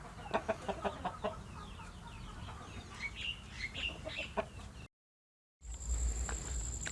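A hen clucks in short, repeated bursts at moderate distance amid chirping of other birds, followed by a brief silence and then a steady hum.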